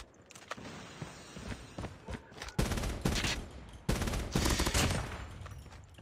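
Burst fire from the Swordfish rifle in Call of Duty Mobile, several rapid bursts of close, loud gunshots with pauses between them and light footsteps underneath.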